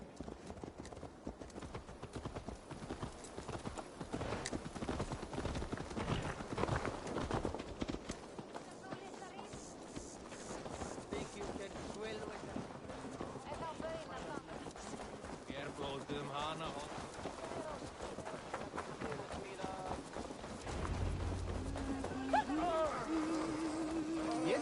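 Horse hooves clip-clop at a run in Assassin's Creed Valhalla, a steady rhythmic patter under game music and ambience, with people talking over it and a brief tonal call near the end.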